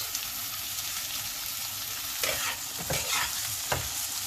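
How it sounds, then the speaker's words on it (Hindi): Two chopped onions and a green chili fry in leftover oil with a steady close sizzle, joined by a few scraping stirs of a spatula toward the end. "बाकी के तेल में हम डालेंगे 2 कटे हुए प्याज, 1 हरी मिर्च"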